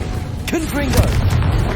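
A Confringo blasting spell explodes in Hogwarts Legacy, a sharp burst at about half a second followed by a second thump, over rumbling game noise with a voice calling out briefly.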